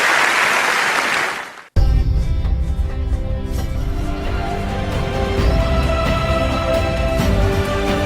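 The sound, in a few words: applause for Tata Liliane coming on stage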